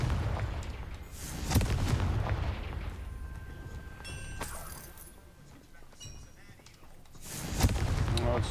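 A Confringo fire spell detonates in the video game Hogwarts Legacy with several booming blasts and a rumbling low end, set among other spell effects in the game.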